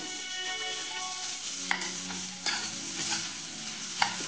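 Vegetable bhaji filling with potato and paneer is stirred in a hot pan for bread rolls, a soft steady sizzle punctuated by several clear scrapes and knocks of the spoon.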